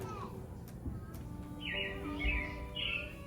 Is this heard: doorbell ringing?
no